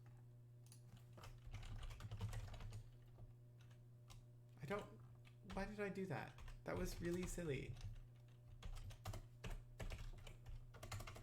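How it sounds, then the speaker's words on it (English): A computer keyboard clicks in soft, scattered bursts during a coding session, faint and close, with someone talking over parts of the typing. "I literally copied it and then started typing it out."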